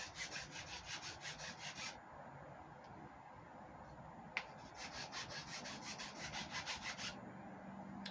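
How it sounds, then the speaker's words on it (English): A file stick rubs back and forth on a thick workpiece that is being sanded down. The strokes are rhythmic and raspy in two quick runs separated by a pause, with one sharp tick in between, close and quiet. "I need to keep sanding this."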